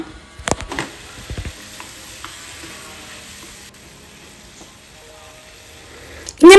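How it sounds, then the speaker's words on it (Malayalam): Chicken stir-fried in onion paste gives a low, steady sizzle with a few clattering stirs and knocks near the start, and a sharp scrape right at the end. "അപ്പൊ നമ്മൾ ചിക്കൻ ഇതിലേക്ക് ചേർത്ത് കൊടുക്കാം നന്നായിട്ടൊന്ന് മിക്സ് ചെയ്ത് കൊടുക്കാം"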